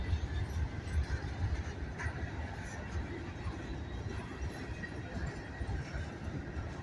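A long freight train of grain cars rolling steadily past, a continuous low rumble with faint wheel clatter and occasional squeal, fairly quiet and unbroken throughout.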